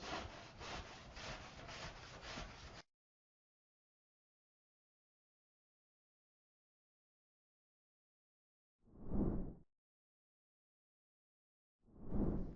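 Hand saw cutting compressed insulation, a rapid rasping burst of back-and-forth strokes, then a long silence followed by two short soft strokes spaced a few seconds apart.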